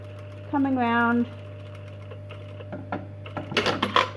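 A sewing machine stitches the curved line of a trouser fly zip in one short, close burst of whirring, followed by quieter handling and rustling of the fabric.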